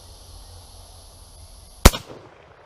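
A single sharp crack from a Mauser bolt-action rifle fired outdoors at a target across overgrown ground, loud and close, followed by a short decaying echo after a quiet lead-in.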